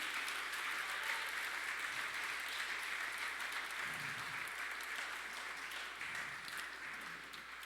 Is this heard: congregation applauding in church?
yes